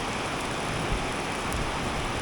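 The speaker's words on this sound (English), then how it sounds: "and now it's pouring." Heavy rain pours steadily at a building site with fresh concrete work, a dense, continuous hiss of drops drumming on surfaces, loud and even throughout with no voices.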